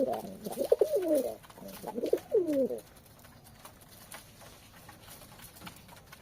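Domestic pigeons kept in cold weather coo in two close, throaty bursts, each lasting about a second, before fading into a quiet background of soft rustling and faint shuffling.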